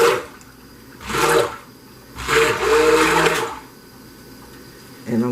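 A stick blender mixes lye water into soap-making oils for hot process soap, whirring in two bursts of a second or more each, with quieter pauses between and a short start at the very end.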